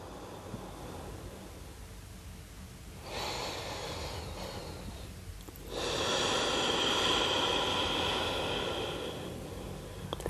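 Slow, deep breathing during a yoga practice, a soft, close inhale building into a louder, longer exhale, heard alone in a quiet room.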